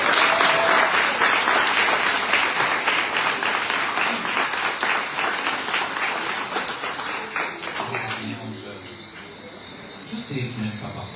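At the Tour de Guadeloupe 2024 team presentation, a crowd gives an honoree sustained applause, steady and fairly loud for around eight seconds before tapering into quieter room sound and murmurs.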